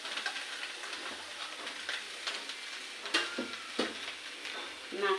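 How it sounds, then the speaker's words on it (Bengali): Grated coconut sizzles and crackles in a hot wok for a traditional Bengali sweet, with steady frying hiss broken by several sharp stirring scrapes and clinks, close and moderately loud, no voices. "এবার কড়াইতে দিয়ে দিচ্ছি নারকেলগুলো।"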